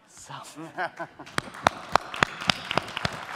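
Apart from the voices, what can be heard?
applause from conference audience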